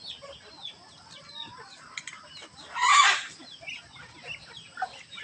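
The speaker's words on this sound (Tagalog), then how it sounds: "Kaikot to sila guys, yung mga manok." Chickens clucking around a farmyard, with scattered soft clucks and one louder, brief squawk near the middle, set against faint rural background sound.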